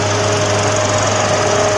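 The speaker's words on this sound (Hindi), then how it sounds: "कितना पावरफुल इंजन है" Engine of a trenching machine running at steady high revs, a loud, continuous droning hum with a strong tonal whine, close and alone.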